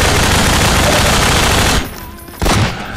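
Dense, loud automatic gunfire from the Half-Life 2 video game roars continuously for nearly two seconds, then cuts out before a shorter final burst.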